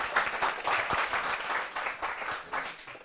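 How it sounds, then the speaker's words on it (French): Audience applause at a comedy show's elimination round, a dense steady patter of many hands clapping close by for about three seconds with no voices over it. "Donc, on l'applaudit très fort, s'il vous plaît."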